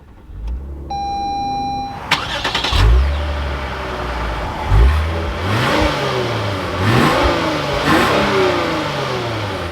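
A chime sounds, then the engine of a 2024 Lexus IS350 F Sport cranks and fires up nearby, revving several times in rising and falling surges before settling into idle.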